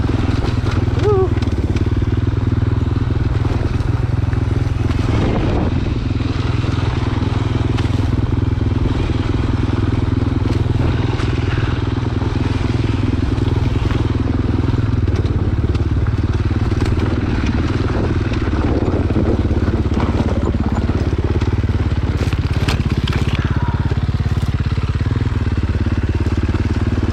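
A dirt bike engine drones steadily while riding rarely used single track, close and loud throughout, with crackling and scraping from the trail; a rider talks over the engine at times.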